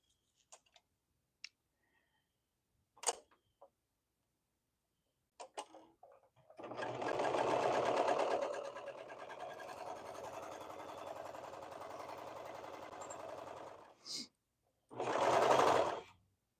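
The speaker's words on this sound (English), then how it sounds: "I only started using my serger about 5 years ago or so" A serger runs steadily through fabric for about seven seconds with a continuous whirring drone, then gives two shorter bursts near the end. A few faint clicks come before it starts.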